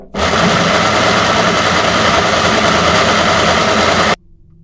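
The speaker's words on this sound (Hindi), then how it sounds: "लहसुन अदरक हमारा ग्राइंड हो चुका है" An electric grinder whirs loudly at close range while grinding a garlic and ginger paste, a dense steady roar that starts abruptly and cuts off after about four seconds, leaving a faint hum.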